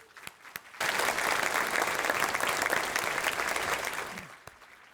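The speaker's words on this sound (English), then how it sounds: "Let's celebrate our honorees with a big round of applause." A large crowd breaks into a burst of applause for Hall of Fame honorees. The dense, loud clapping starts abruptly, holds steady for several seconds, then tapers off to a few scattered claps.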